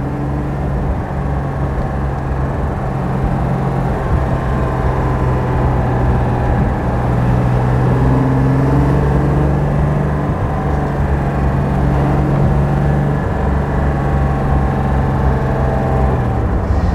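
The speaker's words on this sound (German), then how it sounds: "Läuft klasse, der Wagen." A 1962 Mercedes 300 SL Roadster engine idles steadily and loudly throughout, a smooth continuous low rumble with no talking.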